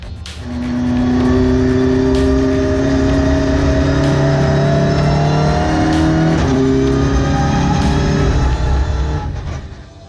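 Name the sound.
Volkswagen Ameo Cup race car engine on track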